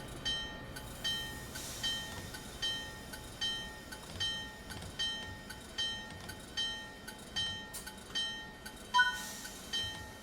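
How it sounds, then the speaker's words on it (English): An MBTA commuter train sits idle, giving off a steady mechanical hum with a regular pulsing rhythm of compressor or engine beats and faint high tonal whines, heard from close by with no talking. "with an MBTA train sitting at its back."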